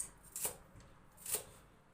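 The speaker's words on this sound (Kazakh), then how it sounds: "Оны былай турап аламыз да" Fresh parsley is cut with a knife in two quiet, close chopping strokes about a second apart, with no other sound.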